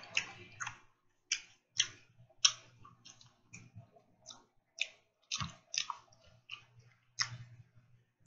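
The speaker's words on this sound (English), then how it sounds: "I can't believe I'm eating all of these." Sour Patch sweet and sour candy is chewed close up in a quiet room, producing a series of sticky, squishy mouth clicks and bites in an uneven rhythm.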